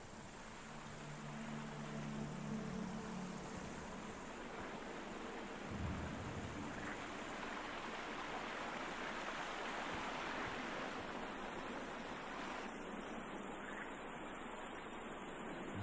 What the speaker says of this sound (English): Wow, that water's really loud.